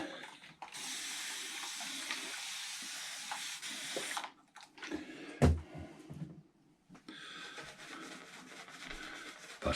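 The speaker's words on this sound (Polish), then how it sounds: "Dołożymy wody." Tap water runs steadily into a vessel for a few seconds, a close hissing splash, then stops, followed by light handling knocks and a renewed rush of water.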